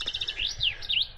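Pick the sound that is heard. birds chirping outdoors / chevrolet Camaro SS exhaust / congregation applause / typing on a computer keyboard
birds chirping outdoors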